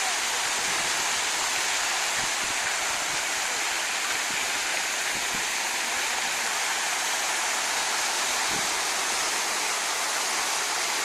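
Steady, dense rush of falling and splashing water, close and continuous, like a fountain's streams pouring down without pause, outdoors in Kharkiv.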